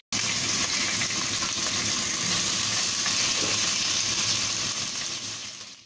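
Pork belly hits a hot pan with browned garlic and ginger and sizzles loudly, a dense, steady frying hiss that holds close for several seconds before easing off, with no voices.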